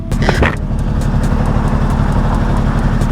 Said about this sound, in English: Alright, here goes a Porsche.